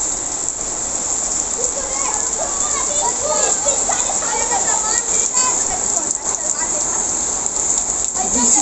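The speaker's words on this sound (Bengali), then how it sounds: "বৃষ্টিটা হলো বলে তাও একটু শান্তি" Rain falls steadily on a rooftop as a constant close hiss with scattered patter, while children's voices and talk carry over it.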